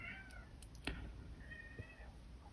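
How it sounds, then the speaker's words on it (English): A cat meows a few times, short and fairly close, in an otherwise quiet room with a faint background hum. "So you can probably hear the cat"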